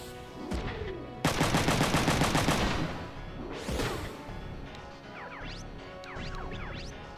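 Missile and gunfire attack in a Front Mission 3 battle: a long, loud volley of rapid machine-gun fire, then a sweeping whoosh and a later cluster of sharp, ricocheting shots.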